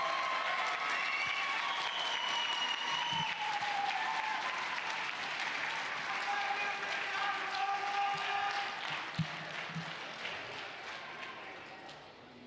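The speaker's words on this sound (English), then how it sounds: "How about one more big round of applause for all of our fifth graders" A crowd applauds the fifth graders at an elementary school continuation ceremony, dense sustained clapping mixed with cheering and whistles, which tapers off toward the end.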